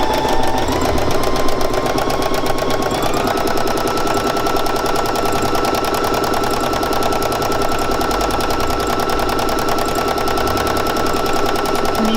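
A sewing machine stitches an outline along the edge of a flower design on soluble, dissolvable fabric, running steadily and loudly with a fast, even mechanical rhythm throughout, with no talk.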